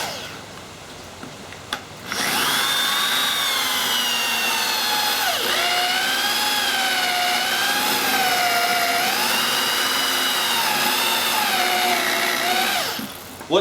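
A power drill fitted with a step drill bit bores a large hole for a homemade riot shield, one loud, continuous whining cut lasting about eleven seconds, its pitch wavering as the bit steps through the material.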